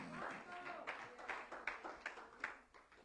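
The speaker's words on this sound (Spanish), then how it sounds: "Ese aplauso." A church congregation claps faintly in a steady rhythm, about six distinct claps spaced evenly, after a brief stretch of speech at the start.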